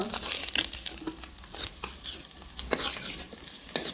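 Small mixed fish frying in oil in a pan, a close, uneven sizzle with sputtering pops and occasional scraping as the pieces are turned, no talking.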